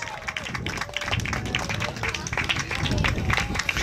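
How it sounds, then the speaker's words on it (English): Audience clapping at a camp certificate ceremony, a busy patter of many hands building steadily and continuing throughout, with voices audible in the crowd. "So give Anaya a big round of applause."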